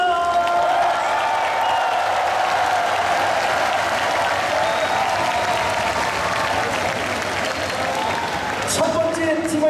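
A large audience applauds continuously and loudly at the final round of a dynamic dance carnival competition in Wonju, a broad wash of clapping with a hint of cheering, holding steady to the end.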